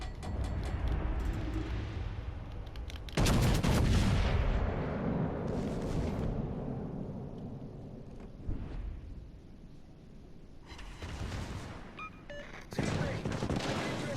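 Battleship secondary guns fire in a naval video game: heavy booming salvos in several bursts, with a rumbling tail between volleys and someone talking over parts of it.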